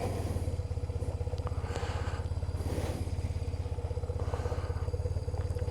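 A motorcycle engine runs with a steady low, rapid thumping pulse throughout, close and continuous, with faint wind and clatter in the background and no talking.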